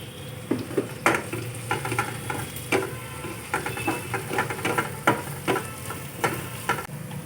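Ginger garlic paste stirred into onions frying in a pan: a steady close sizzle with repeated spoon scrapes and taps against the pan at an irregular, busy rhythm.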